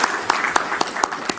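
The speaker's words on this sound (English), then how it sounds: "let's give Paul a round of applause" An audience at an astronomical society meeting applauds, with dense overlapping claps and sharper individual hand slaps standing out, steady and fairly close through the whole stretch.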